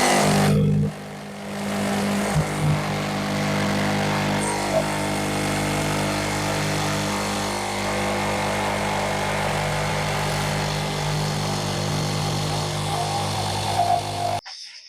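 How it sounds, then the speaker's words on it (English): A belt sander smoothing an inch-thick pine wheel cut for a DIY wheelbarrow runs as a loud, steady, continuous drone for most of the stretch, starting after a short pause and cutting off near the end. "then refine it on the belt sander"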